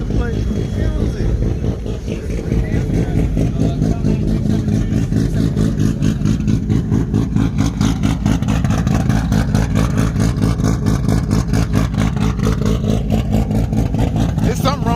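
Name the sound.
car engine revving, sounding wrong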